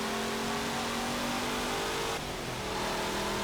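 A classic muscle car engine in Forza Motorsport 7 revs hard and loud, a dense continuous roar that holds steady before a slight dip in pitch.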